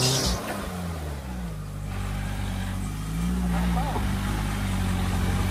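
A motorcycle engine revs and pulls away under acceleration, a steady loud low drone that rises slightly toward the end, with voices talking over the engine noise.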